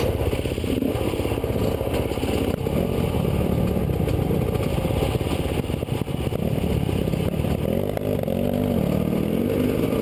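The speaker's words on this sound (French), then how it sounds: "Démarrage en première et passage de la seconde." An enduro motorcycle engine runs steadily nearby, starting off in first gear with rising revs and a shift into second, plus some mechanical clatter throughout.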